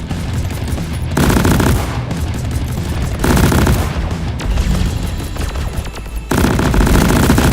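Gunfire during a Caretaker boss fight in Deep Rock Galactic, with loud sustained automatic bursts and heavy booming shots that continue almost without pause, stopping and restarting in blocks.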